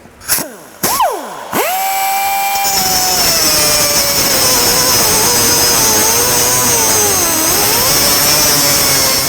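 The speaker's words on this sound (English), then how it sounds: "Let the cutting begin" A power tool cuts into a Ford Fox Body frame while frame connectors go on a Fairmont, a Ford Fox Body car. Short startup revs lead into a loud, sustained, close high-pitched grinding whine that wavers in pitch.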